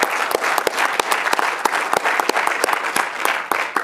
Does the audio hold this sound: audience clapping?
yes